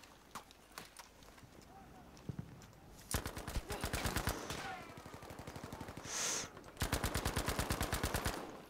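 An MP40 submachine gun fires in Battlefield V amid desert tank and infantry combat: scattered shots at first, then two long, loud, rapid automatic bursts.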